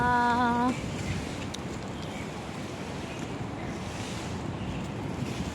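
Steady wind gusting outdoors on a rainy morning walk, a broad continuous rushing roar buffeting the microphone throughout, loud and close, after a short tonal sound at the very start.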